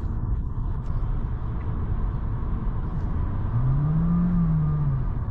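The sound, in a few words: Honda Jazz petrol engine accelerating quietly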